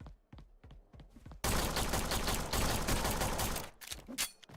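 Pistol fire in the game Forgive Me Father 2: a few sharp shots at first, then a long loud dense burst of firing and explosions filling most of the moment, easing off to scattered shots at the end.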